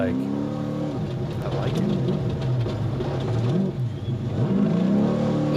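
A 1,100-horsepower Baja off-road race vehicle accelerates hard in a desert race, its engine rising and falling through revving surges that sound loud and close, with a voice speaking briefly over it.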